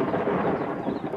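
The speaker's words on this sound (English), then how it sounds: "Thunderstorms." Thunderstorm rumble in the Drakensberg mountains, a dense continuous low roar of thunder, loud and sustained throughout with no voices.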